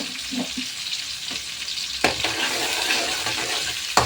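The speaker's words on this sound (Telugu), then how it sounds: "మంచిగా వీటి మొత్తాన్ని అయితే ఫ్రై అవనిద్దాం" Mustard seeds, chana dal, urad dal and cumin fry in hot oil for a tempering, giving a close, continuous sizzle with light crackles and a few stirring scrapes, with no talk over it.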